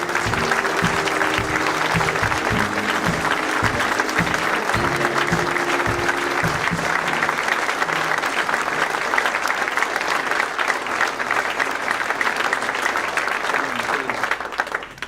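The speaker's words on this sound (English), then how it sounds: "Thank you very much for that very generous applause" Loud, sustained applause from an alumni awards ceremony audience fills the room, dense clapping holding steady throughout with a brief murmur of voices beneath it early on, tapering only at the very end.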